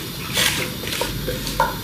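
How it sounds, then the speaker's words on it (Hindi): Spoon stirring and scraping through a turnip sabzi with sugar and desi ghee in a pan, soft clinks and a quiet sizzle over about two seconds, close and fairly faint with no talk. "यहाँ पे इसको मिक्स कर लेंगे।"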